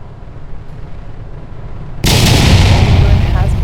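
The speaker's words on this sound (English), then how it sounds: "Landing burn has begun." A rocket engine roars to life for a landing burn in Kerbal Space Program, a quiet low rumble giving way to a sudden loud, broad, sustained thundering blast that holds steady to the end.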